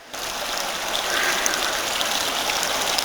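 A small stream flows over rock just before disappearing underground, giving a close, steady broadband rush of water that holds at an even level throughout.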